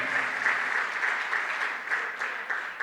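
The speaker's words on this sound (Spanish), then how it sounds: "Le damos un fuerte aplauso al Señor de gloria" Applause from a church congregation, a soft, even patter of many hands clapping in a reverberant room, steady and fairly distant with no voices over it.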